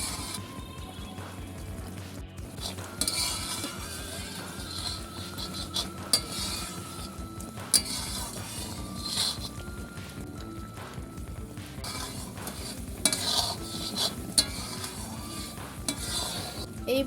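Mango simmering in jaggery for a sweet, sour and spicy pickle is stirred in a pan, giving a continuous soft scraping and bubbling texture with occasional light clinks of the spoon against the metal.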